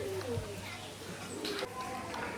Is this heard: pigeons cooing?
yes